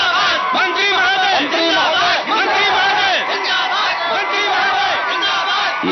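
A dense crowd chants a political slogan hailing a government minister in unison, loud and continuous, the many voices merging into a roaring, rhythmic chant.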